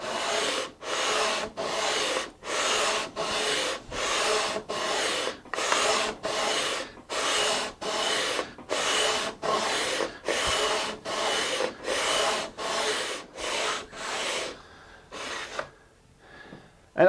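Sandpaper runs back and forth over a guitar fretboard: about fourteen even, rhythmic rasping strokes, close and steady, then a few short scrapes and a pause at the end.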